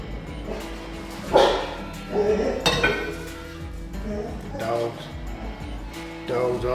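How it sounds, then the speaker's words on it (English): Dogs bark and yip in a kitchen while corned beef is being cooked, several loud barks in short bursts mixed with clinking pots and dishes, a person talking throughout. "Dogs always gotta raise some cane right in the middle of filming."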